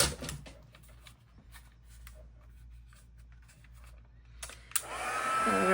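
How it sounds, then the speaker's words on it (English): An embossing heat tool switches on near the end and blows hot air in a loud, steady rush with a rising whine, after several seconds of quiet handling and light tapping. "Now we need our heat tool."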